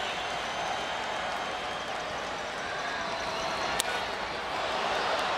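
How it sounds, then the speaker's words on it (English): A baseball crowd at the Twins–Astros game in July 2017 cheers steadily, with two outs and the bases loaded. The broad, distant roar holds throughout, and commentators talk over it. "Crowd gets into it"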